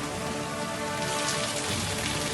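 Steady rain falls during monsoon weather in Jaisalmer, Rajasthan, a continuous dense hiss of drops striking surfaces, with no voices or thunder.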